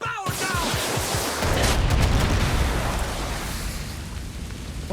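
Gunfire, rocket launches and explosions hit gas tanks in Far Cry 6: a quick burst of shots, then a heavy roaring blast that swells and slowly rumbles away, loud and close.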